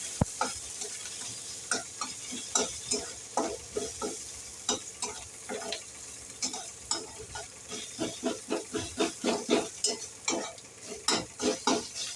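Whole cumin and garlic fry in oil for a spinach curry, with a soft, steady sizzle under repeated scraping stirs of a utensil in the pan. The sound is close and fairly quiet.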